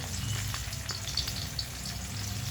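Onion, garlic and green chili fry in hot oil in a pan, giving a dense continuous crackling sizzle with faint pops, steady and moderately quiet, with no talking.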